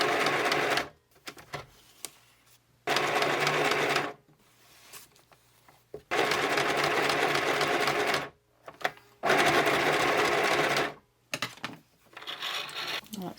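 A sewing machine stitching pockets for a collage journal runs in several steady bursts, mostly a simple running stitch with a bit of zigzag, each whirring run stopping and restarting with quiet pauses between, close and fairly loud.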